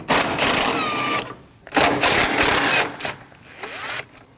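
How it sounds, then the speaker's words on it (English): Bolts on the horn bracket of a 2012-2016 Honda CR-V 2.4L come loose with a power tool in bursts of rapid whirring, two long runs and a shorter third, each close and loud with brief pauses between. "Now it's time to remove your horn bracket. It's held on by 2 12mm bolts."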